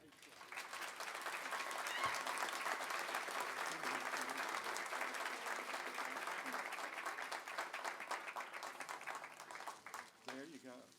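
Sustained applause from a civic center audience at a Lions Club show, honoring the show sweetheart, fairly distant and steady for about ten seconds before tapering, with a voice briefly heard at the end.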